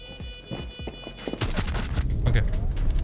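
Video game gunfire breaks out as rapid, loud bursts in the second half after a quieter start with a few scattered clicks.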